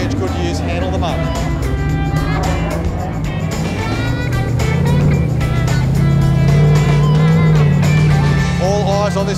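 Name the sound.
off-road truck on 43-inch Goodyear tyres driving through mud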